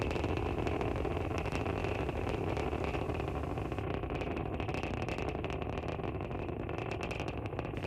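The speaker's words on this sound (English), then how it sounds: "We can hear the characteristic rumble as the first stage heads into space" Steady, dense low roar of a SpaceX Falcon 9 first-stage rocket engine during launch, a continuous broadband rumble holding loud and even throughout with a faint crackle on top.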